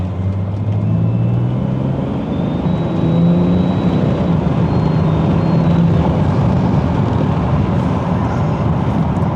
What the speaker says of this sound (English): So let's give it a half throttle.